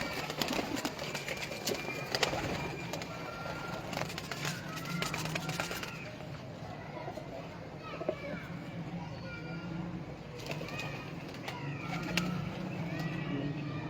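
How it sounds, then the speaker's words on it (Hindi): Pigeons coo softly around a backyard loft alongside a male and female pair, low murmuring calls mixed with background voices, children, and passing traffic. "ये कबूतर है"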